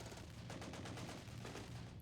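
Rapid bursts of gunfire from Assassin's Creed crackle in a dense, continuous volley, loud and close throughout with no voices.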